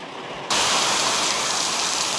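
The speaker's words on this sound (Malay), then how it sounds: "Ni kebetulan hujan pula ini." Steady, heavy rain starts abruptly and keeps pouring as a dense, even hiss, loud and close, with no voices over it.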